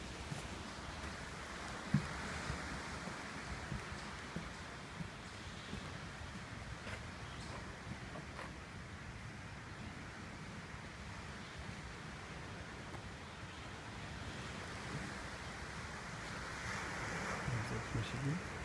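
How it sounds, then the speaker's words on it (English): Rough Lake Michigan surf rolls in under a steady wind blowing off the lake, a faint continuous wash of waves and breeze without clear breaks. "there's a little bit of mixture of wind and it's coming right off the lake"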